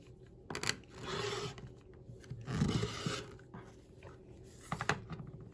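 A cutter trims the edges of a split quarter square triangle quilt unit: three soft, close scraping swipes across fabric and a cutting mat, separated by light clicks and handling taps.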